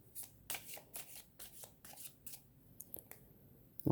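Tarot cards being shuffled by hand in quiet, a series of soft crisp riffling bursts in irregular rhythm, close and fairly faint.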